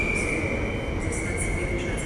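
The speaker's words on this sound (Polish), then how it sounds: "Lokomotywa jest fajna." A train locomotive passes with a steady, moderately loud rumble of wheels on rail and a thin high whine running through it.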